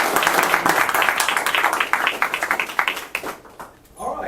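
A board meeting audience applauds Senator Elliott with a burst of dense clapping that thins into scattered individual claps before fading out near the end.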